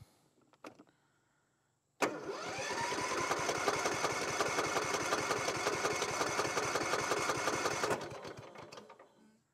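A Cub Cadet riding lawn mower's small engine, choked for starting, cranks and fires at about two seconds, then runs steadily and loudly with a fast, even chatter for roughly six seconds before dying down.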